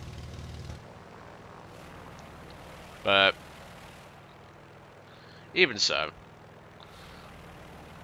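The engine of an F3F-2 propeller biplane in War Thunder gives a low, buzzing drone that runs steadily throughout, with a voice speaking briefly over it twice.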